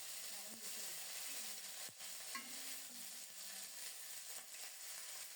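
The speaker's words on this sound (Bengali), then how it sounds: "কড়াইটা পরিষ্কার করে সরিষার তেল দিয়েছি গোটা দারুচিনি এলাচ আর গোটা জিরা ফোড়নে দিলাম" Whole cinnamon, cardamom and cumin tempering in hot mustard oil in a wok, with ginger and cumin paste added, giving a steady faint sizzle and frying hiss alongside soft stirring scrapes throughout.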